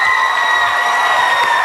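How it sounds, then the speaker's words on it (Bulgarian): Audience applause and cheering on the BG Music Idol stage fill the space in a loud, steady wash of clapping, with no voices over it. "Да изпратим с аплодисменти."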